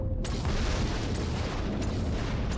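Miniature torpedo launcher guns firing in Gears of War 3, a dense, continuous rumble of booming low bursts that starts abruptly and holds steady and loud without a break.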